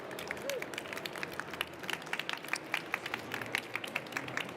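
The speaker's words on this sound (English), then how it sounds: "A big round of applause to all of them." Scattered clapping from a crowd at a youth awards ceremony, a steady patter of many hands with some voices murmuring underneath.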